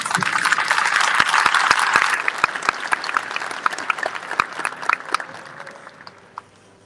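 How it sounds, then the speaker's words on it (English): Graduation ceremony audience clapping for absent graduates, a full burst of applause that thins after a couple of seconds into scattered, sharper individual claps fading out. "If we can applaud them in their absence."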